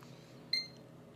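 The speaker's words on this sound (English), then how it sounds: "One beep. Beep of success." A computer giving a single short, high POST beep after a graphics card fix, faint and close over a low steady hum, with no talk.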